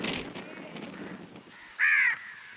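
Crows call on a rainy day: faint, distant caws early on, then one loud, close, harsh caw near the end over quiet background ambience.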